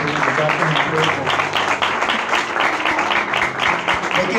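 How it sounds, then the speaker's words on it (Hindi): A church congregation breaks into sustained, loud applause during a worship service, a dense steady wash of clapping running throughout with faint voices mixed beneath it. "आइए जोरदार तालियां खुदा यसम से की बजाते हैं"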